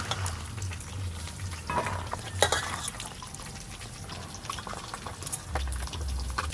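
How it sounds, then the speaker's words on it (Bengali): Fish fries in oil in a pan, a soft steady bubbling sizzle with occasional crackles and a scrape or two, fairly quiet and close. "এক খোলা মাছ ভাজা হয়ে গেল"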